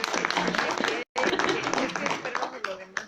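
Applause from an audience at a book presentation: steady, close clapping that fills the room, with a voice speaking over it and a brief silent gap partway through.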